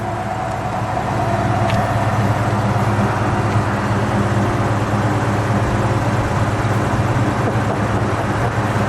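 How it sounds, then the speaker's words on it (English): A black 1969 Mercury Cougar XR7 with a 351 engine idles through its natural exhaust, a steady low rumble that holds even and close for the whole stretch with no revving and no talk. "Let it idle for a second. I want to get that natural exhaust, and then we'll give it a little rev."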